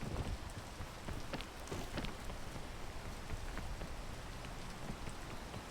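Rain in the video game PEAK falls as a steady, dense patter with scattered sharper drops and a low rumble underneath, continuous and fairly close, with no talking.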